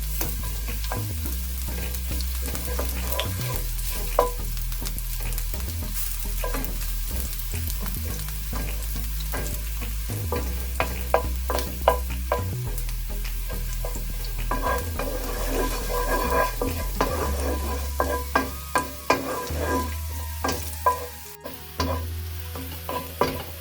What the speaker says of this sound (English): I'm going to add the garlic, fry that a little bit until golden brown